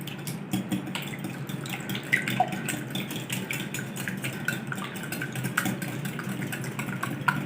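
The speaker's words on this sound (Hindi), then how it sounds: "अंडों को अच्छी तरह से फेंट लेंगे।" Eggs whisked in a bowl for a quick breakfast recipe, a steady run of light rapid clinking and tapping over a low background hum.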